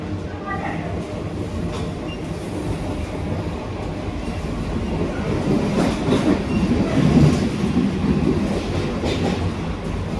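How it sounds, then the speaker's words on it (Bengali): Interior rumble of a moving Sealdah-Kalyani air-conditioned local train: continuous low rolling noise with soft rhythmic wheel clatter on the rails, rising slightly mid-way, steady and close, with faint murmuring voices in the carriage. "তো আমি ভাবছিলাম ট্রেনের আওয়াজ বোধহয় বাইরের ট্রেনের আওয়াজ একদমই শোনা যাবে না কিছুটা তো শোনা যাচ্ছে"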